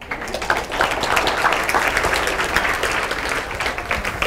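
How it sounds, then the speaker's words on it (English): Audience applause at a comedy show, a steady dense wash of clapping from a crowd that fills the whole stretch at moderate loudness with a few brief voices mixed in. "Give a nice round of applause."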